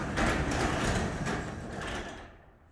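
A LiftMaster garage door, freed by its emergency release, is raised by hand: a sustained rumbling, rattling slide of panels and rollers that fades out toward the end, with no talking.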